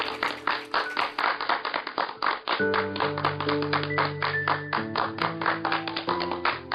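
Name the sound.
clapping for student's result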